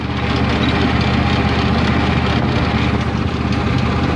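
A riding lawnmower's small engine drones steadily and loudly close by while driving slowly, a rough continuous running noise with some wind rumble and no pauses.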